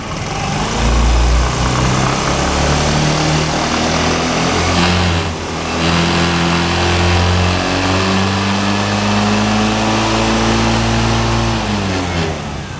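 A fuel-injected motorcycle engine runs loud and close, holding a steady revving drone with rising and falling pitch, briefly dipping as the throttle eases before climbing again.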